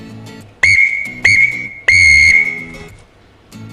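Shrill Scout whistle sounding the Morse letter U: three close, loud blasts in quick succession, the last held longest, followed by a quiet room.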